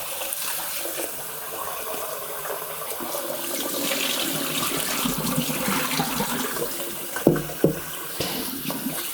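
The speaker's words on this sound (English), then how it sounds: "I wash it till the water is clear." Basmati rice being washed in cold running water, a continuous splashing and trickling close by with a few sharper sloshes and clatters near the end.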